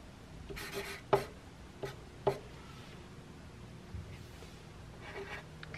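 A pen scratches and taps on paper at a quiet table, a few sharp strokes and clicks spaced across several seconds over faint room hiss.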